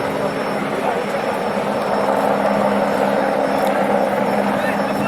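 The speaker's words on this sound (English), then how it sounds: "What is that Homeland Security helicopter, you know, maybe 300 feet above us tops?" A Homeland Security helicopter flies low overhead, roughly 300 feet up, with a steady, loud rotor and engine drone holding constant through the whole stretch alongside outdoor background noise.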